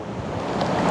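At Hogenakkal falls on the Kaveri, rushing water makes a steady, noisy roar that swells slightly over a short moment, with wind buffeting the microphone.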